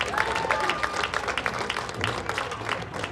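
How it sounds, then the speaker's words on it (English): Steady audience applause in a school gym at a senior night recognition for the graduating class, dense and sustained clapping with crowd murmur throughout. "Let's give one more massive round of applause to the class of 2026 and their families."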